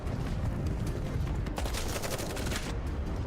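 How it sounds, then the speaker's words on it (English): Dense, continuous bursts of gunfire and explosions from the video game Goddess of Victory: NIKKE, loud and sustained rapid-fire rattling with booming hits filling the whole stretch. "Gunfire and explosions."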